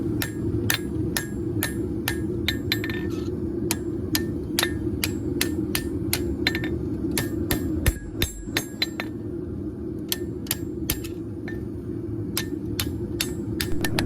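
Hammer blows ring out on a steel knife blank as it is forged by hand, a steady run of sharp metallic strikes with short pauses over a continuous low roar of a forge.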